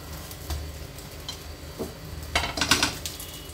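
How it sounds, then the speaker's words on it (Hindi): An egg omelet for a cheese sandwich is gently flipped in a frying pan, soft sizzling under light scrapes and a few clinks of a spatula against the pan, close and fairly quiet. "अंडे को धीरे से टर्न कर दूंगी ऐसे।"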